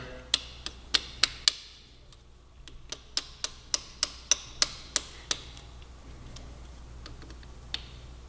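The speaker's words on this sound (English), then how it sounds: "Once you've got the cotter pin through, go ahead and spread out the legs again and kind of wrap them around the pin." A cotter pin is fitted and its legs spread on adjustable rearsets for a 2015-2017 Yamaha R3, giving a run of sharp metallic ticks and clicks in short bursts, close and fairly loud, then quieter taps over a faint steady background hum.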